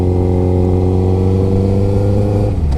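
A 2008 Honda CBR 1000RR motorcycle doing a burnout on a cold, salted street, a loud close engine holding a steady high-revving drone that shifts and drops near the end.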